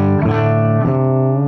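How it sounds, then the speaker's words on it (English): A PRS Custom 22 electric guitar on its bridge pickup plays through a clean Matamp GT20 amp, a loud sustained chord with a second strum midway, ringing alone. "Here's the bridge pickup."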